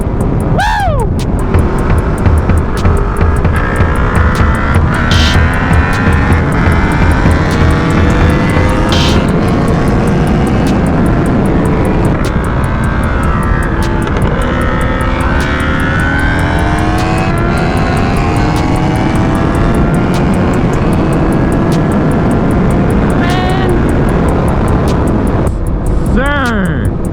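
A Yamaha R1 sport motorcycle running at full throttle, a loud, continuous high-revving engine roar with rising and falling pitch as it accelerates through the gears, with a voice speaking over parts of it.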